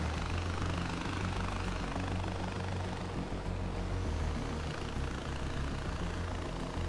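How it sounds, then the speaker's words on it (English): In Far Cry 4, a helicopter drones steadily and close, a dense rotor thrum with a deep engine hum that holds even and loud throughout, with no talking. "I'm gonna land the helicopter because I kind of want to keep it."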